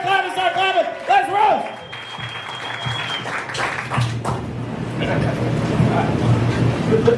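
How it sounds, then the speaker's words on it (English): An audience applauds at a live roast battle comedy show in a club. Clapping grows after a host speaks and swells into steady, loud crowd applause. "Start clapping right now."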